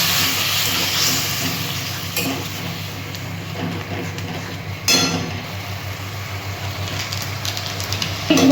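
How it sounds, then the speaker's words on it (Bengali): Ground spice powder cooking with a splash of water in a pan for a fish kalia, giving a steady close sizzle with occasional stirring scrapes and a brief louder burst midway. "গুঁড়ো দিলাম ছোটো চামচের 1 চামচ, একটু জল দিচ্ছি, নাহলে মশলাটা পুড়ে যাবে"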